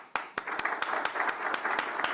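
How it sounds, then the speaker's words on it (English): Scattered hand claps from a small gathered audience at a community award presentation, a dozen or so sharp distinct claps in an uneven rhythm, moderately close, with a dense patter of lighter clapping filling in between. "Big round of applause."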